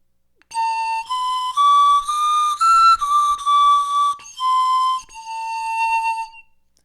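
A replica Jorvik panpipe, a wooden Viking-age instrument tuned to a major set, plays a short run of clear breathy notes one after another, rising then falling, close and alone.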